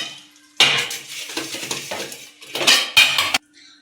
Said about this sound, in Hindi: बर्तन धोते रहो बस